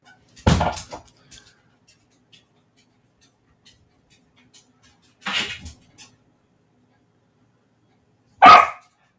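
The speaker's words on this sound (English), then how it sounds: "Oh, there's the dog." A dog barks in a garden while herbs are being dug and tended, with two short loud bursts followed by a sharper bark a few seconds later and quiet gaps between them.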